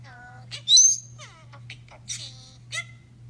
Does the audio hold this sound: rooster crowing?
no